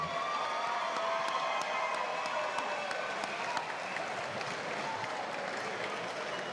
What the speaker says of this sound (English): How about a round of applause for Josh Thompson?